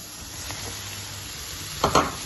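Mushroom and carrot strips frying in a pan, a quiet steady sizzle with a couple of louder scraping stirs near the end.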